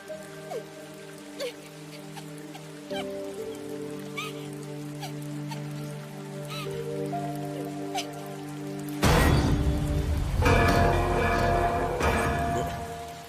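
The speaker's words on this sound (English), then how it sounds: "Oh, damn, it's raining." Steady rain in a video game patters on a surface, growing much louder and denser partway through, with faint tonal hum and occasional small clicks beneath.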